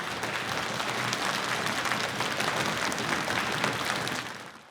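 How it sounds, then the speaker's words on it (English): Audience at an OutdoorLads AGM 2025 awards session applauding nominees, a dense sustained round of clapping from a sizeable indoor crowd lasting several seconds before tapering off. "a massive round of applause for all the people that have been nominated."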